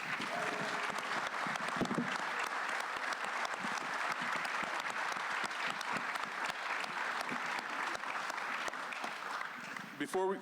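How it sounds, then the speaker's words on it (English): A seated audience claps steadily and densely for about ten seconds, welcoming panelists at a Woodstock sound crew reunion event, with a voice faintly over it near the end. "Please give a round of applause for our panelists."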